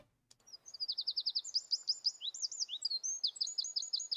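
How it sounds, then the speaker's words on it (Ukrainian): A chaffinch sings outdoors, delivering a rapid series of bright, repeated chirping notes in quick trilled phrases, clear and fairly close against a quiet background. "Але в нього дуже схожа пісня на зяблика."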